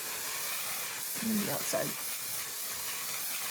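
Two quick bursts of makeup setting spray misted onto a face, close and soft, set against a steady background hiss and preceded by brief speech.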